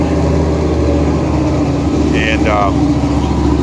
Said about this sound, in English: 350 engine with 30 over bored out, mild cam, completely chromed engine